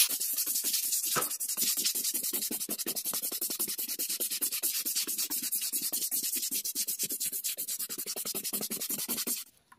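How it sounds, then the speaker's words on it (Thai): A stiff brush scrubs a concrete floor treated with cleaner to lift moss stains, producing rapid, rhythmic rasping strokes, close and steady for nearly ten seconds before stopping abruptly. "ทิ้งไว้แล้วครับเราก็ขัดครับ"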